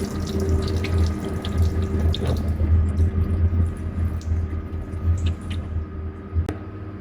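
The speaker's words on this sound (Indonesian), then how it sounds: "Kemudian kita lakukan bilasan kembali menggunakan air mengalir." Tap water runs steadily from a faucet to rinse a chemical spill off skin, a continuous close splashing with a low hum beneath and a few small drips and knocks.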